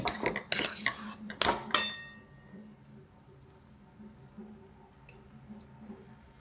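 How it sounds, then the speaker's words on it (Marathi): A spoon scrapes and clinks against a pan while stirring moong dal halwa. A few loud close strokes come first, then quieter faint scraping follows. "थोड्या वेळ अजून दहा ते पंधरा मिनिट चांगला हलवून घे"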